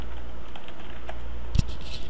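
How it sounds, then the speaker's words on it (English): Password keystrokes on a computer keyboard, a run of quiet, irregular taps ending in one louder keypress, heard alone over a faint background hum. "Type in your password."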